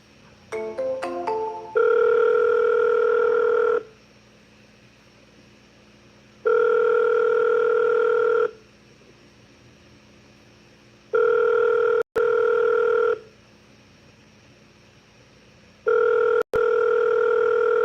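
A phone call back rings out: a few quick dialing beeps, then a steady ringback tone repeating in long, evenly spaced pulses with quiet gaps between them, clear and alone.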